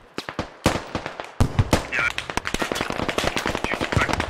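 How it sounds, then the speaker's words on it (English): PKP machine gun fire in the military shooter Squad comes as rapid sharp bursts, close and loud, the rounds cracking in quick uneven strings, with a brief tonal warble mixed in among the shots. "That's an MG. Taking PKP fire."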